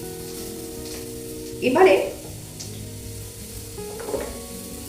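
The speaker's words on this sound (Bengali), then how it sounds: "বেগুনটা ভাজার পরে যে অল্প একটুখানি কড়ার গায়ে লেগে আছে, তাইতেই আওয়াজটা হচ্ছে" Potatoes hit a hot wok still coated with leftover oil from fried eggplant while cooking nim jhol. A brief loud sizzling burst settles into a softer frying hiss, and a voice speaks briefly.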